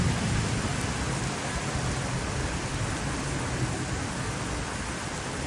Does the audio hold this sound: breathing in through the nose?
no